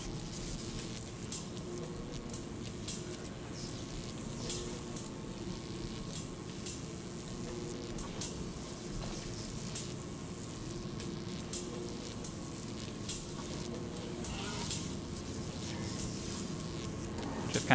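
Boiling, sparking liquid floods a machine in Amnesia: A Machine For Pigs, a steady low hiss and bubbling sizzle with scattered faint crackles that runs evenly throughout.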